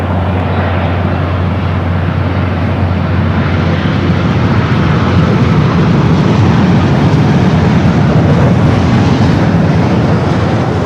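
An airliner from Tokyo Haneda at Los Angeles LAX airport roars loud and close, a broad sustained jet engine rumble and rush that swells gradually across the whole stretch, no talking.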